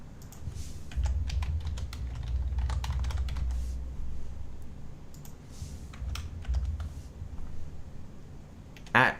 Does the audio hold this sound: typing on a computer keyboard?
yes